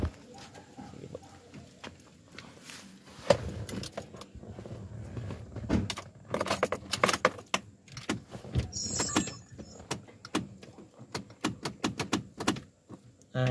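Keys jangle and rattle at the door of a 2014 Mitsubishi Montero Sport that will not start, in irregular clusters of bright metallic clinks and clicks, with quiet talk at times.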